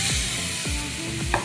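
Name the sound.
pointed gourd paste frying in oil with onion, chilli, garlic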